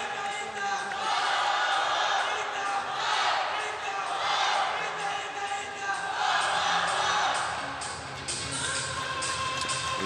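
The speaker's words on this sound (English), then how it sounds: "Italian team cheering for the compound ladies." The Italian team cheers for the compound women at an archery gold final against Denmark, a steady crowd roar with claps and shouts sustained throughout, fairly distant and broad.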